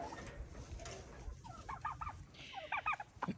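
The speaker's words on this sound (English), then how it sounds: "I like my turkeys." Backyard turkeys kept among chickens let out for the day give several short bursts of gobbling, close but fairly soft, over quiet farmyard background.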